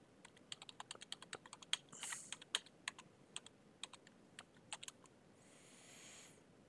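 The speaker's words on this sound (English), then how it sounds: "I'll type it in the room." Quick bursts of key presses on a computer keyboard as a stock ticker is entered, irregular clicks and clacks close to the microphone, with a brief soft hiss partway through and again at the end.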